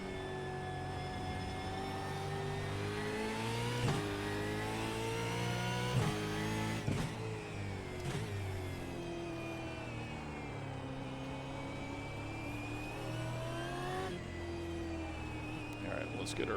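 Supercar racing engine in the iRacing game at Okayama, revving steadily in second gear with a sustained tonal whine, occasional sharp shift blips and rising pitch sweeps, loud and continuous under a spoken voice.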